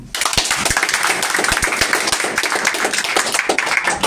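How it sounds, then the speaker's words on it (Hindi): An audience claps loudly and steadily at a student motivational talk, a dense patter of many hands with sharp individual claps standing out, continuing throughout without speech. "उन लोगों के लिए मैं चाहूँगा एक बार जोरदार ताली"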